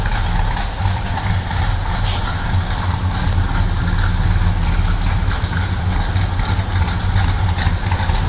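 A 1970 Chevrolet C10 custom pickup idles with a steady, deep low rumble that is loud and close, holding an even, slightly lumpy throb throughout without revving.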